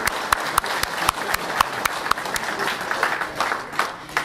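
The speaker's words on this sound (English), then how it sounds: "Let's show our appreciation with a round of applause for our active duty and retired military." Audience applause at an amateur radio forum at Hamvention, honoring active duty and retired military, steady dense clapping from a crowd with a few sharp, louder claps standing out nearby.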